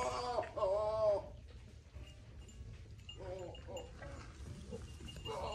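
Goats call inside a barn, a near bleat early on followed by fainter bleats and shuffling, with a person speaking softly at times.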